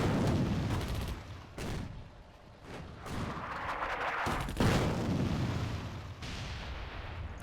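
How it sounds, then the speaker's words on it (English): Heavy airstrike explosions in the World War II North Africa strategy game Attack at Dawn: North Africa, deep booming blasts rolling one after another with a dense, sustained rumble between impacts. "One final airstrike."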